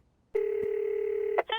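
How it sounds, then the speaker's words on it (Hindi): Cartoon telephone being dialed: a single sustained, loud electronic dialing tone lasting about a second, broken by a click, then short rapid beeps at the end, with no talking. "मैं एमा और सुला को फोन पर बता देता हूँ कि हम नहीं आ सकते"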